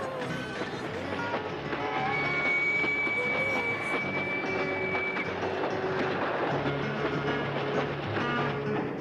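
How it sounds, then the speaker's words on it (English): Train running on rails in a cartoon scene of a race to switch tracks ahead of it, a steady loud rumble with clickety-clack rhythm and high wheel squeals throughout. "We gotta get out of the way of that train."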